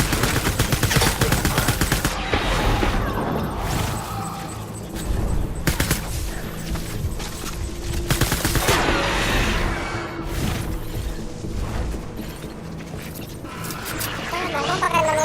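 Rapid bursts of gunfire in Death Stranding crackle in repeated volleys, loud and close, with bamboo leaves scattering and other game sounds underneath.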